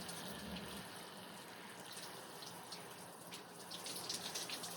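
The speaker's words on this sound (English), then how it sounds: "How's the shower? It's nice. It's nice and warm." A warm shower runs in a steady, soft hiss of falling water at moderate distance, unbroken and without talk.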